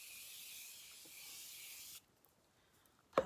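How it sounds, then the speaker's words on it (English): Steady airy hiss of setting spray misted onto a face for about two seconds, close and even, then a sudden stop, near-silence, and a small knock at the end. "let me spray my face"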